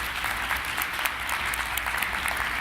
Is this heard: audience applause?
yes